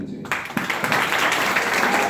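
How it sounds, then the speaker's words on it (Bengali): An audience at a university seminar breaks into loud applause after a short quiet pause, with dense clapping carrying on steadily to the end. "আমি এই সব মানুষের জন্য একটা জোরে হাত তালি চাই"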